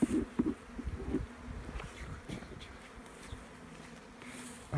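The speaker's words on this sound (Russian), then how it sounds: "Пчелки." A continuous hum of honey bees fills an outdoor apiary in spring, with a few nearer bees zipping past the microphone over the steady background drone.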